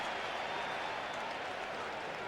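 Stadium crowd at a 1998 NFL football game between the Buffalo Bills and New England Patriots, roaring as a steady, dense wash of noise, loud and continuous for a couple of seconds.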